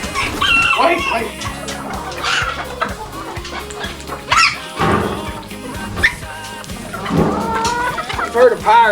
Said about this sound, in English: you ain't heard of me and my chickens